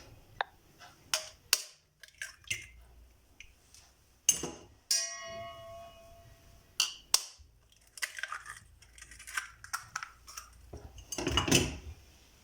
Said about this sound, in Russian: И вбиваю 2 яйца